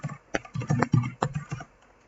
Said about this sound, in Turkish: Ops yanlış yazdım.